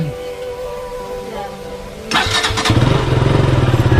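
A motorcycle engine starts near the mic partway through, a sharp cranking catch followed by a steady, pulsing idle after a stretch of quieter background hum.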